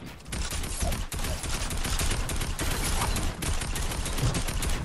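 Rapid gunfire in a Fortnite match, a dense loud barrage of overlapping shots and bursts with brief gaps, continuous throughout.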